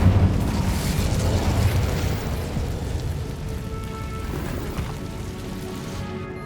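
A fire spell cast in the Hogwarts Legacy video game, a loud, sustained roaring burst of flame with crackling rumble that stays dense and steady for several seconds before thinning out at the end.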